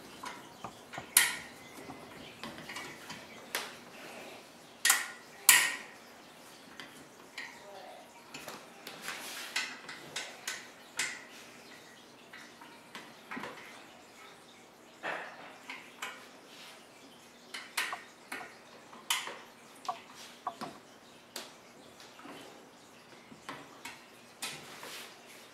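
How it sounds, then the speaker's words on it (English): Bolts are tightened on the handrail of an InMotion T900 manual treadmill, giving scattered metallic clicks, ratchet ticks and taps at an uneven pace, close but quiet, with faint talk in places. "So we're going to tighten these bolts."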